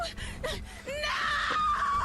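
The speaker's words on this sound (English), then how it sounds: "That was the best scream in this entire game." A woman screams in a horror video game, a strained, wavering cry that rises into a loud sustained shriek with gasping breaths, close and raw.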